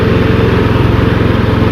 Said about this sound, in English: we're gonna pull out our choke and then turn the key